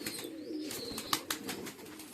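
Pigeons kept in a loft in Karanja, Vidarbha, give soft, rolling coos up close, with scattered flutters and light clicks in between.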